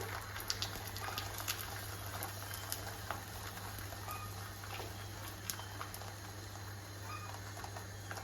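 Low, steady sizzling and crackling of a beaten egg poured into a preheated frying pan, with scattered small pops over a constant hum.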